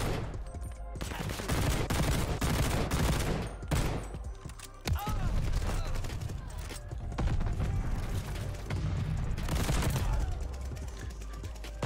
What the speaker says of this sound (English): It's a Marksman rifle, but because it's a battle pass variant that has a full auto barrel attachment.